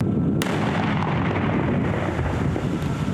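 Artillery fire near the front line, a dense, loud low rumble of distant booms and blasts rolling continuously with wind buffeting the microphone.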